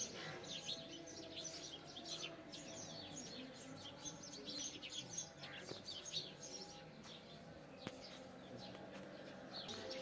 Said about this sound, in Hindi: एक वहाँ कोने में बैठी हुई है काले रंग की चिड़िया